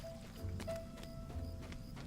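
Horse hoofbeats from a mount in The Lord of the Rings Online, a soft, steady clip-clop repeating at an even walking pace, moderately quiet over a constant game ambience with a faint tonal hum.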